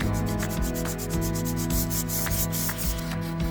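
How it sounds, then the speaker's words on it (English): Sandpaper at 120 grit rubs back and forth across laminate closet doors, a steady, close scratching with rhythmic strokes roughly every half second, continuous and unaccompanied by speech. "I will be sanding these laminate doors with 120 grit sandpaper."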